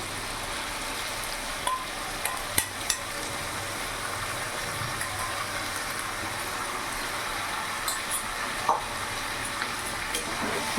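Washed Gobindobhog rice stirred into fish-head murighonto in a pan, a soft continuous sizzle with occasional light clinks of the spoon, fairly faint and steady throughout.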